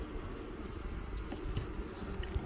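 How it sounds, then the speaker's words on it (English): Honey bees buzzing at a hive at Lake Patti Sue in late September, a close, steady, swarming drone with small rises and dips and no talk. "Quite a few bees."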